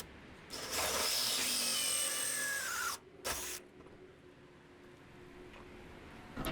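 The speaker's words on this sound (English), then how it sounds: "now I'm ready to drill the hole from the outside." A power drill bores a hole from the outside through the wall of a camper van in two loud bursts, a long grinding whine then a short one, followed by quiet.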